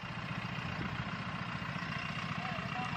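A tractor engine runs close by, a steady, unbroken throbbing rumble with a low pulsing beat, while faint voices murmur in the background.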